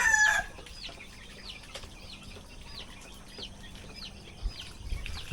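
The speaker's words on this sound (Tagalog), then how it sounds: "si kuya nagpapakain muna sa mga manok namin." Farmyard chickens cluck in a steady series of short, repeated calls while being fed, fairly close, with a brief flutter at the start and low rustling underneath.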